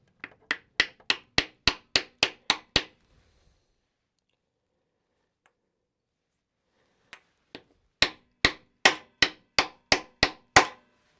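A workpiece being tapped up onto a lathe center point in a workshop: a burst of about ten sharp, evenly spaced metallic taps, a quiet pause with a couple of faint knocks, then another run of about seven taps, close and crisp.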